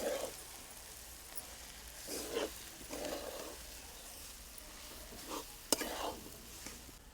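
Finely crumbled soybean bhurji sautéed in a pan, a faint low sizzle broken by scattered scraping stirs and one sharp utensil tap near the end.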